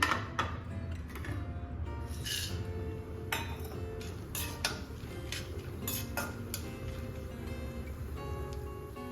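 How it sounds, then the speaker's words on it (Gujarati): Pumpkin and sunflower seeds dry roast in a pan, giving a steady bed of light ticking and clinking as they are stirred, with sharper metallic taps now and then. "ત્યાર પછી આપણે પમ્પકિન સીડ્સ અને સૂર્યમુખીના બીને પણ શેકી લઈશું"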